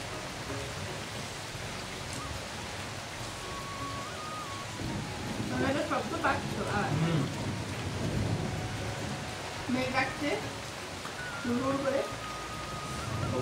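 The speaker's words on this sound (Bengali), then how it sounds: "বৃষ্টি আর বাতাস" Rain and wind during a storm at home with the power out, a steady wash of rainfall with rumbling thunder, while people talk over it intermittently at moderate distance.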